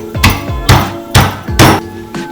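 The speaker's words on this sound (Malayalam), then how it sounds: "ഇത് നമുക്ക് ചതച്ചു കൊടുക്കാം." Ginger and large garlic cloves crushed for a beef fry, four loud pounding thuds at a steady rhythm, each with a short clattering ring, close up with no talk.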